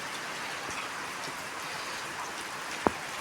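Steady rain pours down outdoors after a long dry spell, a dense even hiss throughout with one brief sharp drip or tap near the end.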